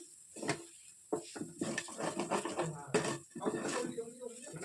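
Flattened rice is stirred in a pan without oil, with uneven scraping and clattering strokes against the metal under a talking voice.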